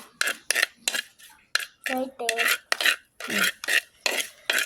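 Chopped vegetables and leaves are stirred in a pan for a Kerala thoran, with close, repeated scraping and clinking strokes in a steady rhythm and brief pauses between them.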